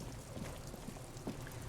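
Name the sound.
rain in the video game Disco Elysium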